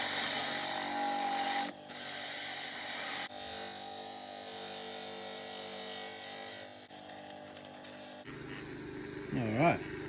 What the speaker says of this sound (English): It's quite a hard wood, so it's going to take a bit to sand it off.